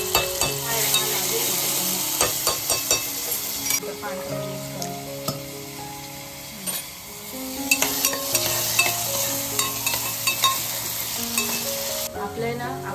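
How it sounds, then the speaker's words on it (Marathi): Mustard-seed tempering crackles and sizzles in hot oil in a home kitchen, set for a cluster bean dish; a steady close frying hiss runs throughout, with sharp pops and a few spoon clinks as it is stirred. "आता मी फोडणी घालते इकडे."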